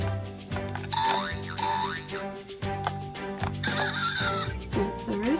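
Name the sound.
rooster crowing from a toy sound stamper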